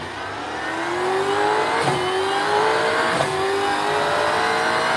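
A race car engine in a racing simulator climbs steadily under throttle with a rising, moderately loud whine, punctuated by two brief sharp clicks.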